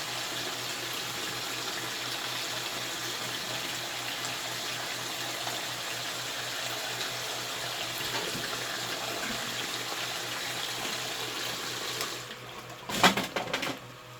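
Water washes down material during gold panning in a basement, a steady continuous rush that fills the clip before a short burst of splashing near the end.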